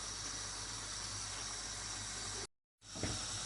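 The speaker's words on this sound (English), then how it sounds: "Now the water is boiling." Steady, loud hiss of water at a rolling boil in a pot for rice, broken by a brief silent gap before the bubbling resumes.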